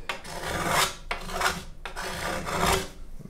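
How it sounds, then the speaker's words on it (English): Sandpaper rasping on the wooden arm bevel of a handmade acoustic guitar held in a vise, three long back-and-forth strokes, close and loud, with no voices. "Let me just sand that."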